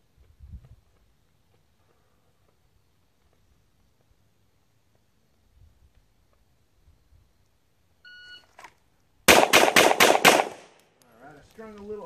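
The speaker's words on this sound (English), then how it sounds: "Five shots to the body" Five rapid pistol shots from a live-fire Bill Wilson 5x5 drill ring out close and loud in a tight string, following a long quiet stretch and a short electronic beep.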